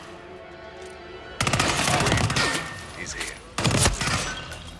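Rapid bursts of gunfire ring out in Hitman 3, two loud volleys of shots separated by a brief lull, with a short spoken remark between them.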